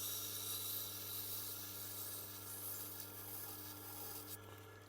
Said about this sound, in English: the more you run these Japanese knives over the wheel, the smoother it gets